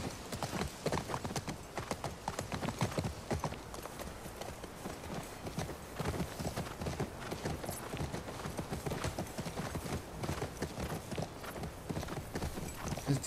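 Rapid galloping horse hoofbeats in the video game The Last of Us Part II drum continuously at a quiet level, a dense even rhythm with no voices over it.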